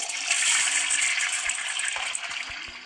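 Water from a tap gushes steadily into a bath, a loud, close, continuous splashing rush for the whole stretch with no talking.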